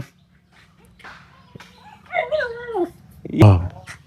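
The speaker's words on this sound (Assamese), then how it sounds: "কুকুৰ আৰু বান্দৰে খেলাই আছে" A dog playing with a monkey gives a few close, short whining yelps, then a louder yelp near the end, against a quiet background.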